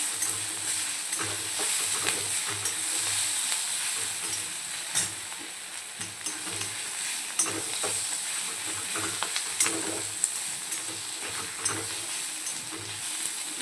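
Bitter gourd pieces stir-fry in a hot pan for a Maharashtrian-style vegetable dish, giving a continuous close sizzle broken by repeated spatula scrapes and knocks in a loose rhythm, with no talking.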